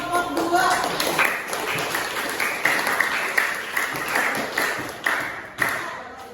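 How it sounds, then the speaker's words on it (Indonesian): A classroom of students applauds a presenting group with brisk, uneven clapping and occasional thumps, mixed with voices talking throughout. "Berikan tepuk tangan untuk kelompok 2."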